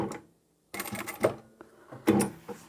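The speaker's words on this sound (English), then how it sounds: "you can either end your work or just sew a few stitches across" Sewing machine topstitching a two-tone leather/vinyl patchwork pouch: a quick silence, then short mechanical bursts of rapid stitching close and fairly loud, with a stronger run near the end.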